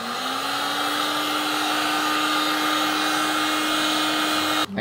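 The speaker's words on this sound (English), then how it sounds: "Okay, blow dryer. Actually, heat gun." Steady, loud blowing whir of a heat gun drying a ceramic gingerbread baking tray, a constant airflow hum with a fixed tone that runs unbroken and cuts off abruptly at the end.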